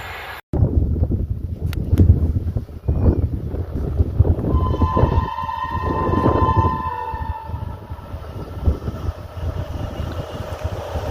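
An express train on the Howrah and Sealdah division rumbles past close by, loud and continuous, with rail clatter, wheel noise and a sustained horn-like tone partway through, no voices.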